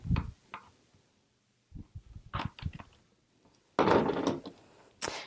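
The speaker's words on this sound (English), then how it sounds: "Sorry for the squeaky noise of my pullers here." Staple pullers prying upholstery staples from a cornice board, a few close squeaky scrapes and clicks in separate bursts with quiet gaps, including a louder rasping pull near the end.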